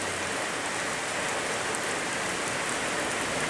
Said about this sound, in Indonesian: beginilah kondisi saat ini ketika hujan di Jalan Tol Senawar Tempino ya, seksi 2.